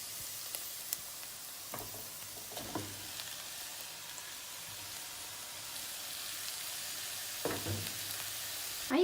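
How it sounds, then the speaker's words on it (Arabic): Minced meat hits a pan already holding green peppers and onions for a potato and ground-meat tray bake, giving a soft, steady sizzle with occasional louder stirring scrapes and clatters, no voices. "بعد ما البصل والفلفل ابتدوا يتبلوا معايا، هنبتدي ننزل باللحمة بتاعتنا."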